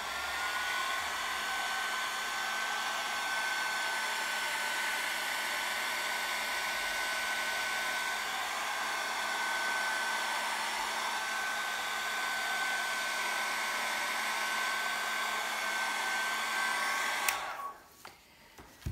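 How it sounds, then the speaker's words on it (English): A powerful hairdryer blows steadily and loudly at close range over paper with alcohol ink for a long stretch, with a constant whine, then cuts off abruptly near the end. "even if you have a hairdryer like this that is a little bit powerful."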